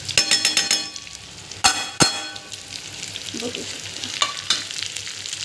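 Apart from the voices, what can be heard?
stirring stuffed bitter gourd curry in a frying pan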